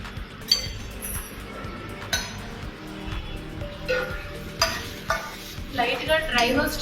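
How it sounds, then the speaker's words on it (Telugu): Dry roasting in a pan with a spoon stirring and scraping, giving soft scrapes and occasional light clinks over a faint sizzle, close and moderately quiet. "డ్రై రోస్ట్ చేసుకుంటే చాలండి."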